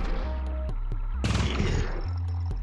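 A grenade detonating in the video game Cruelty Squad, a loud blast bursting out midway through dense in-game gunfire and music, with several sharp hits scattered around it.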